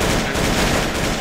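Dense, loud gunfire from a player shooting in the Roblox war game Build a Base and Have a War fills a brief moment with a continuous, blurred barrage.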